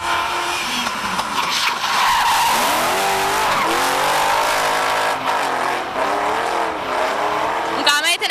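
Drag racing cars at a motorsport festival in Jelgava screech their tires in long skidding squeals over loud engine roar, with people talking nearby throughout.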